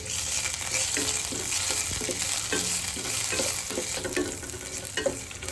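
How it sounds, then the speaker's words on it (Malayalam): Chopped ginger, garlic, green chilli and curry leaves fry in hot oil for a Kerala moru curry, with a steady bright sizzle and a spoon scraping and stirring at a regular pace. "മുളക് മൂത്ത് വരുമ്പോൾ ചെറിയ പീസ് ഇഞ്ചി ചെറുതായി അരിഞ്ഞതും 2 അല്ലി വെളുത്തുള്ളി ചെറുതായി അരിഞ്ഞതും എരിവിനനുസരിച്ച് പച്ചമുളകും 1 തണ്ട് കറിവേപ്പിലയും കൂടി ചേർത്ത് ഇളക്കി കൊടുക്കണം"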